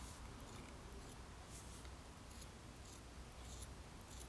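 Scissors snip through thermoplastic splint material for a resting orthosis, a few quiet, crisp cuts over a steady low background hiss.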